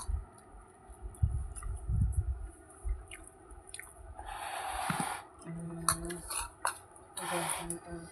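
Utensils clink and scrape against a plate as a festival meal of potato fry, chutney and lentil soup is served, with soft intermittent clicks and a few brief louder scrapes up close.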